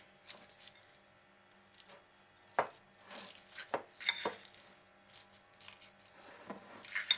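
Cottage cheese mixed with powdered sugar being stirred in a bowl, quiet scattered spoon scrapes and soft knocks against the bowl, close and intermittent.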